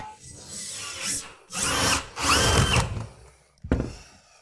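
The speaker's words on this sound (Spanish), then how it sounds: "Vamos a perforar unos agujeros y veremos si podemos limpiar este marco aquí atrás." A power drill bores holes into a wooden kitchen cabinet frame in a few short, loud whirring bursts with brief pauses between them, up close.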